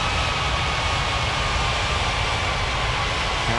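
Continuous broadband roar of an Etihad airliner's jet engines on the runway during takeoff, a steady loud wash of noise with a faint whine on top, no pauses.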